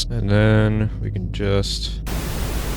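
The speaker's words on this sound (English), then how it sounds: "If I just get some white noise from 3x oscillator here." White noise generated by the stock 3x Oscillator synth plugin in a beat-making session, a loud, steady broadband hiss that takes over after someone speaks briefly.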